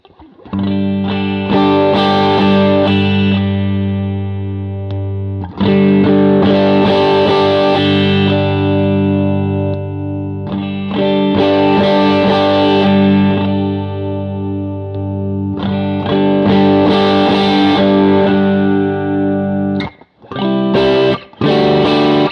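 Electric guitar through a Tuesday Experiments Sonic Drive Deluxe overdrive pedal, strummed chords with mild crunch, switched back and forth between tones in several long passages, loud and close with no voices.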